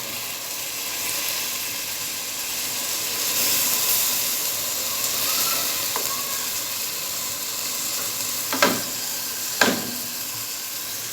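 Onion frying in a pan for a snail dish, a steady close sizzle throughout, with a few brief clinks and stirring touches near the end as tomato, coriander and parsley go in.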